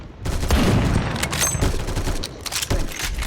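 Shots from a BFG50 rifle in a shooter video game crack out in loud, close blasts, several heavy reports in quick succession over a dense, rumbling battle backdrop.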